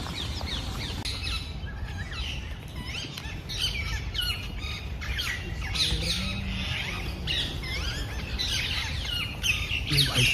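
Parrot squawks and chirps ring out repeatedly at moderate distance over steady outdoor background noise at a historic residency site in Lucknow, with loose, irregular calls throughout.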